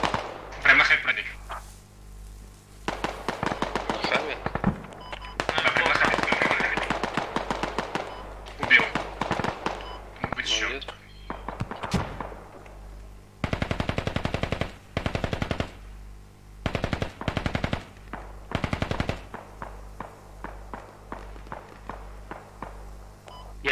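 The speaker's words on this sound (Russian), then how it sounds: "я же сказал, это говно какое-то стреляет" Gunfire in the video game Squad: loud bursts of automatic fire and single shots come in irregular clusters, with pauses between them, while players talk over a low steady hum.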